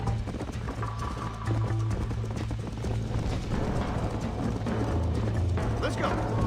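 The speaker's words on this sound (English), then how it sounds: "Corre, cavalo. Corre, cavalo." A horse gallops in Red Dead Redemption, its hooves thudding in a rapid, steady rhythm that is loud and close, with tack and mechanical clatter and occasional talk over it.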